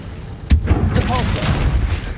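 Incendio fire spell cast in Hogwarts Legacy: a sharp burst at the start gives way to a roaring whoosh of flame that lingers, with a voice speaking over it.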